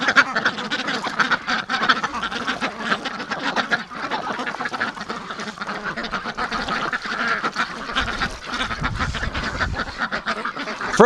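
A flock of breeding ducks, including Rouens, quacks loudly and continuously at close range, with overlapping honking calls that hold steady throughout.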